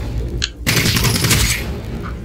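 Rapid gunfire from the sci-fi shooter The Cycle: Frontier, a loud sustained burst of automatic shots after a brief pause, filling the moment on its own.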